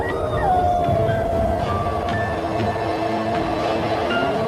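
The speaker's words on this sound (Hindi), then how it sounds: "कुत्ते रोने लगे।" Several dogs howl in long, wavering, mournful tones that rise and fall and overlap against a steady windy background, loud and continuous throughout.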